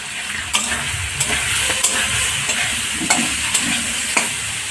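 Purple cabbage sautés with coriander and cumin powder in a hot pan, a loud continuous sizzle broken by regular scraping strokes of a spatula about once a second, close by.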